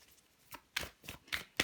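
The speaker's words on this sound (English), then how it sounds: "So I do shuffle on camera." A deck of cards shuffled by hand for a tarot-style reading, heard as a quick series of four or five crisp riffling bursts, close and fairly quiet, with no talking.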